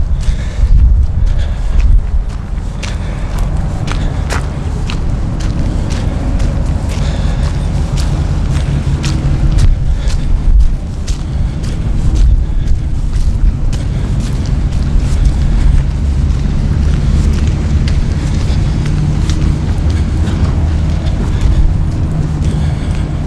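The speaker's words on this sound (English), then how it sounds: "I can edit some wind noise out, but it's pretty hard when it's real strong." Strong wind gusts buffet the microphone at an outdoor farm equipment auction, a loud continuous low rumble with repeated sharp thumps and surges running the whole way through, no voices heard.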